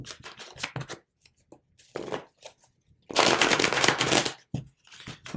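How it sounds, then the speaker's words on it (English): Mystic Monday tarot deck being shuffled by hand, riffling bursts of card flutter in several separate rounds, close and fairly loud, with quiet gaps between and a long dense burst near the end. "I'll shuffle this a couple of times as well."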